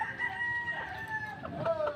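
A fighting rooster crows with a long ringing tonal call, fairly close, followed by a few shorter clucking notes in a rural setting.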